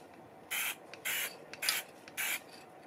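Krylon Triple-Thick Crystal Clear Glaze aerosol sprayed onto a paper Halloween scene in four short hissing bursts, each about a quarter second long, evenly spaced against a quiet room.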